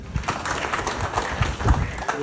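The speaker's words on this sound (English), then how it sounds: "Please, a round of applause for him." Brief applause from an audience at a Ugandan ceremony flagging off polling agents, a patter of clapping heard together with a voice in the background.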